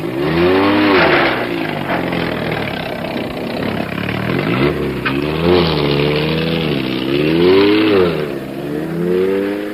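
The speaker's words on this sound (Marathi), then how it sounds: "सामानान भरिल्ले पिकअपी फाटल्यान ताची गाडी गेली" A car engine revs and pulls away, running and rising in pitch through several throttle surges, loud and close, with no voices over it; a sound effect in a radio drama.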